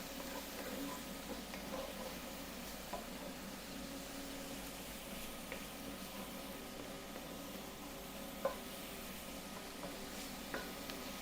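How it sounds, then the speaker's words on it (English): Lasagna ingredients sauté in a single pot with a steady, soft, broadband sizzle that holds even throughout, broken by a couple of faint clicks near the end; there is no talking. "Now just let it saute"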